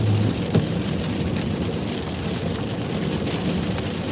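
Steady rain pours down outside with traffic nearby, a constant dense hiss with a low rumble beneath it, unbroken throughout.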